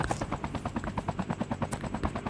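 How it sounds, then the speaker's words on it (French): Helicopter in the Call of Duty Mobile video game, a steady rhythmic rotor chop that stays fairly loud and even throughout, with no talking. "Il y a même des hélicoptères les gars."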